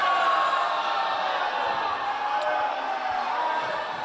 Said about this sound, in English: A lot of disagreement from the crowd on that call